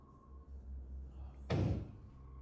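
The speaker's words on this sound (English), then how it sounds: "The man opens the door to his basement." A basement door opens in a horror game played on a stream, a single loud burst of creak and thud after a quiet low hum, close and alone.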